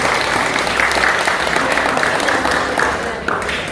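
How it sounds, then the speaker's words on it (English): Loud, dense applause fills a school hall as the audience claps for students and young performers, steady throughout. "Can we give a round of applause to the students and performers?"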